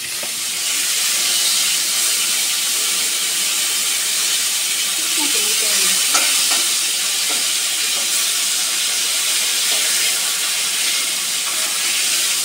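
Onions frying in a pan until brown, a steady loud hiss-like sizzle that holds evenly throughout, close by, with faint clinks now and then.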